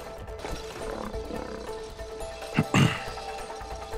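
Lion roar from the video game It Takes Two sounds amid a busy game soundtrack, with a short growling burst rising near the end over steady background music.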